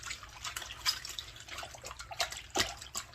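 Running water splashes and drips steadily as collard greens are rubbed and rinsed under a kitchen sink tap, close and moderately loud, with brief louder splashes.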